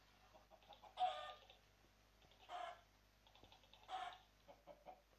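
Minecraft chickens cluck in three short bursts spaced about a second and a half apart, faint and game-like over a quiet background.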